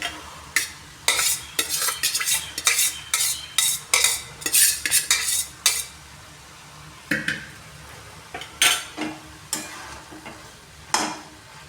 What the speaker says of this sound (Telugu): ఈ మసాలా అంతా కలిసిన తర్వాత ఈ వండుకున్న అన్నం దీంట్లో వేసుకొని కలుపుకోవాలి